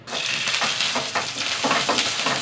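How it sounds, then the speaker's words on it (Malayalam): Garlic cloves sizzle in hot coconut oil alongside dried red chillies, a steady close frying hiss with pulsing bursts as the pan is stirred, no voices present. "വെളുത്തുള്ളി ഒന്ന് വഴണ്ട് വരട്ടെ."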